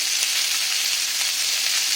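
Chopped onion with salt frying in hot oil, a loud, steady, dense sizzle holding throughout with faint stirring clicks.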